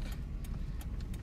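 Renault car fitted with a 73 carburetor pulling away, a low steady engine rumble at close range with brief light rattles, and no talk.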